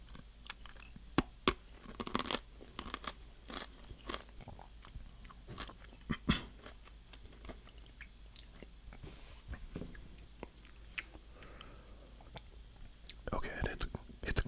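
Crunchy peanut snacks from a dollar store being bitten and chewed close to the mic, with repeated sharp crunches spread through the clip and soft whispering between bites.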